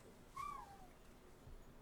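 A single bird call, a short descending whistle-like hoot, sounds faintly in the background of a quiet room.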